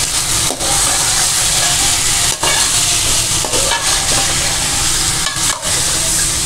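Chicken cubes cooking in a pan, a loud, constant hissing sizzle with brief dips where the spatter pauses, close by and with no talk.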